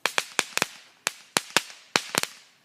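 Small firecracker-type firework going off in a rapid series of sharp, crackling bangs, around ten pops in quick irregular bursts, moderately close and fairly quiet overall, with no talking.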